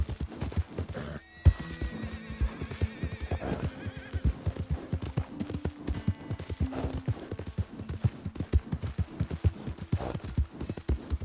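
A horse in Red Dead Redemption 2 whinnies over rapid, steady hoof clip-clops, with the galloping rhythm continuing throughout at moderate loudness.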